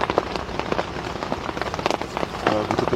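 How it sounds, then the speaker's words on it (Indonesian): Steady patter of light drizzle on a surface at night at a campsite in New Sekipan, Tawangmangu, dense small drops ticking continuously, fairly close, with no voices. "tapi masih gerimis."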